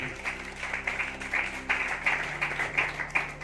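Audience claps steadily through a business plan presentation, a dense patter of applause with periodic swells, heard at moderate volume over a faint low hum.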